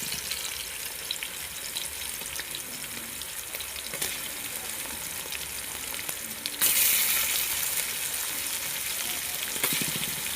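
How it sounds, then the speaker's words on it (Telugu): Marinated fish pieces fry in hot tempering oil in a pan, giving a steady, close sizzle that swells louder partway through and keeps going with no talk. "ఇది తాలింపులోకి వేస్తున్నాను చూడండి"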